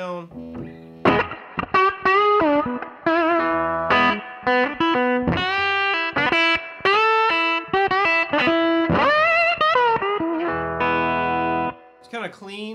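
Gibson SG electric guitar through a 1966 Fender Vibrolux amp, mostly clean with a little grit breaking up on hard-picked notes, with phrases of strummed chords and runs played up close and loud before a brief pause near the end.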